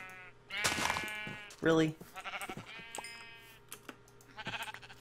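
Sheep bleating in the video game Minecraft Feed The Beast, a couple of short wavering bleats that stand out amid a player's talk and other game noises.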